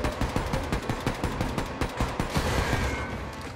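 Rapid automatic gunfire from an enemy in Wolfenstein II: The New Colossus on Nintendo Switch rattles in a dense, loud burst of evenly spaced shots.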